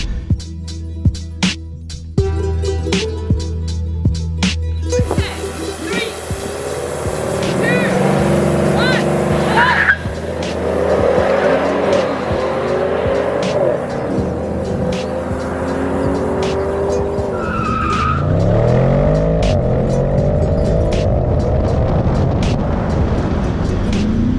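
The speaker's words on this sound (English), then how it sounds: "What's not to love about the 4-litre twin-turbo that makes this noise when started up?" The 4-litre twin-turbo engine of an Audi S8 Quattro Tiptronic starts, then settles into a loud, steady rumble with rising and falling revs, close by, with some talk underneath.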